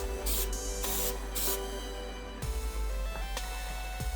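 Plasti Dip spray coat being applied to car interior shifter trim, several short hissing aerosol bursts of uneven length with brief pauses between them, close and fairly quiet.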